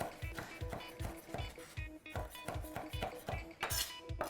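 Knife chopping tomato on a cutting board, a steady run of about fifteen close, even, rhythmic thuds with light clinks between them.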